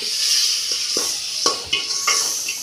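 Onions and masala spices fry in a pan with a steady high hiss, broken by several sharp scrapes and clinks of a spoon stirring against the metal, close and fairly loud with no talking.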